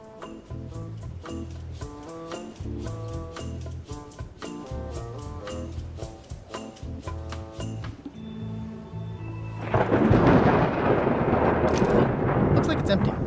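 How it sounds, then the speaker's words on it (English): A cannon fires in the video game Return to Monkey Island: after a stretch of melodic game music, a loud, rumbling blast erupts and roars on to the end. "Ready for cannon firing."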